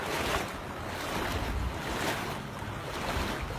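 Floodwater rushes in Oregon after days of heavy rain, a loud, steady broadband roar of churning water with gusty wind noise swelling and easing throughout.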